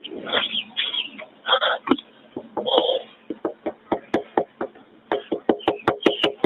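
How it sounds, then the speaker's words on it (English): A woman knocks on a window during a 911 call, giving a series of sharp, evenly spaced raps. They come through muffled and thin over the phone line, with breathing and rustling before the knocks. "She's knocking on a window."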